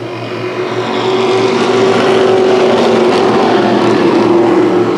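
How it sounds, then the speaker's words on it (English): Race cars roar around Irwindale Speedway in a multi-car pack, a loud, steady engine drone that builds after the first second and holds without letup, with no talking. "Sean Razone, the number 99 machine, off to an early lead"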